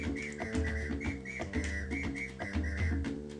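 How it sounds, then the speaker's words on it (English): A coach whistle used as a melody instrument in the soundtrack of the game Minnesota Cuke and the Coconut Apes plays short, bright repeated notes over a busy, rhythmic musical backing. "A coach whistle."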